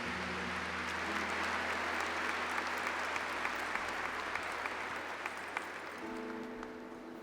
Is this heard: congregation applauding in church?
yes